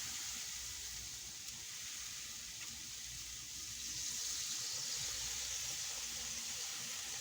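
A pump sprayer mists apple cider vinegar onto spareribs, a steady, soft, continuous hiss that holds unbroken throughout at low volume.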